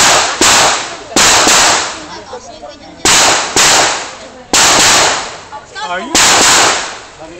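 Gunfire at a steel target shooting match, loud sharp shots in quick pairs and singles, each followed by a ringing tail from struck steel plates, with a brief spoken word between shots.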